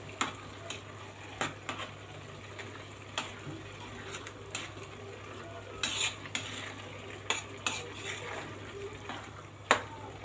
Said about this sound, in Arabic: لما يبدأ كده يشرب من المية نديها ايه تقليبة